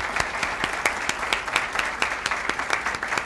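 Audience applause at an awards gala, steady dense clapping with sharp individual claps standing out, filling the room close and loud throughout.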